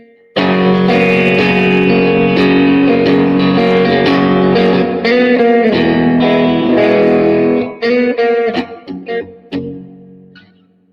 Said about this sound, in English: So here is with the tremolo off, but still reverb and the same settings otherwise.